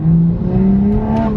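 The engine of an Evolve Automotive 550 BHP Toyota Supra revs briefly, a loud close rising growl that holds and climbs slightly before easing off, with no voices.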